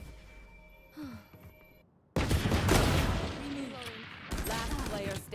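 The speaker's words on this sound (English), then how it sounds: "Gue nembak gak ada yang kena kayaknya." Gunfire in the video game Valorant, a burst of rapid shots erupting after a quieter stretch and continuing loudly, with a voice speaking briefly over the game sounds.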